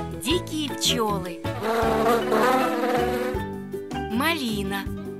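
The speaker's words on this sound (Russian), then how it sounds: "Дикие пчелы." Wild bees buzz loudly and close in a forest, a continuous humming drone that rises and falls in pitch with overlapping, wavering tones throughout.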